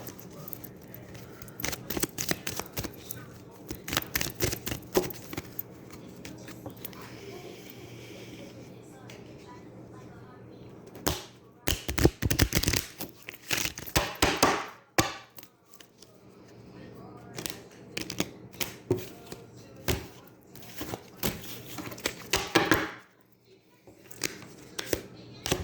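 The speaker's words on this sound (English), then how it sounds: "I shuffle the cards" Tarot cards being shuffled by hand, with bursts of crisp riffling and flapping that come and go over a steady low background, busier stretches around the middle and near the end, with no talk.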